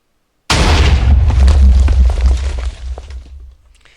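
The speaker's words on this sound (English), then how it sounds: "if we'll click on fire button, it launches rocket straight forward." A turret in Minecraft's Advanced Tower Defense mod launches a rocket that explodes with a sudden loud boom, then rumbles and crackles as debris settles and fades over a few seconds.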